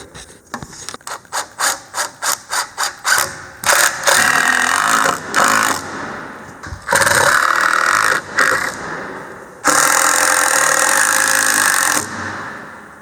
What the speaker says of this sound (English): There you go, square, let's screw it down.